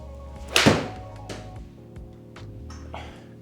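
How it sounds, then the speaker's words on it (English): A Takomo 201T MkII pitching wedge strikes a golf ball on a practice range, one sharp close impact followed by a short fading ring, then quieter thumps and background noise. "Let's hit one more with the pitching wedge."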